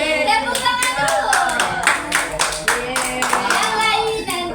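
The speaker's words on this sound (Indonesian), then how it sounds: "Tepuk tangan dulu." Primary-school children in a classroom clap their hands for the winners, a lively burst of individual sharp claps with uneven rhythm, close by, with a few young voices mixed in.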